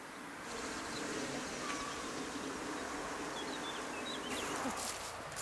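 Pollinating insects buzz around kohlrabi plants grown for seed, a faint continuous outdoor drone with wings whirring in and out and a brief bird chirp near the end, no speech.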